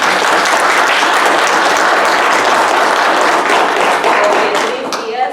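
A crowd at a community candidate forum in Greenfield, California gives loud, dense, sustained applause, with a thick wall of clapping that stays steady before easing slightly at the end.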